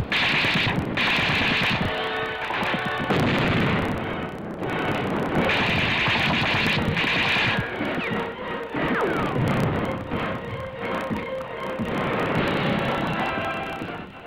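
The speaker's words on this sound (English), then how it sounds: "American tanks in the infield fired their guns point blank at enemy defenders" Tank guns and gunfire roar through a World War II battle at the Manila stadium, where American tanks in the infield fire point blank at defenders in the grandstands. Dense, loud bursts of machine-gun fire and heavy blasts continue without pause.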